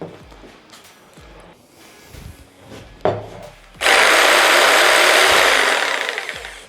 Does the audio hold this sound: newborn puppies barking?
no